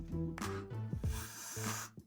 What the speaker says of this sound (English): I'm just gonna spray her hairline like so